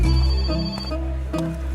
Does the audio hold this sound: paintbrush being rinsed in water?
no